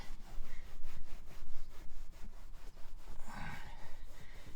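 Microfiber cloth rubbing conditioner into a leather car seat of a newer vehicle, a steady close scrubbing rasp with rhythmic back-and-forth strokes filling the whole stretch, no voices.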